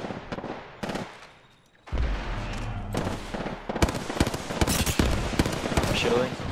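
Gunfire in the video game Apex Legends, with bursts of rapid shots and sharp cracks in the second half, mixed with game effects and excited talk over the top.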